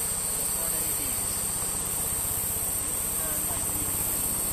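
Honey bees drone at a smoked hive during a transfer, a dense, steady, unbroken hum with constant background noise and no clear pauses.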